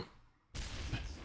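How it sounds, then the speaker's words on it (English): After a near-silent moment, a sudden burst of crackling explosions and gunfire-like bangs erupts in Mass Effect combat, dense and fairly quiet overall. "Things are exploding all over the place."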